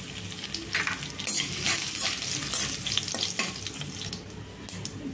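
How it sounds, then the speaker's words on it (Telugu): Crushed garlic and dried red chillies sizzle in hot oil as a tempering for a broad bean stir-fry, with a steady, close crackle and occasional spoon-against-pan stirring clatter throughout. "చూడండి, తాలింపు అయితే వేగిందండి"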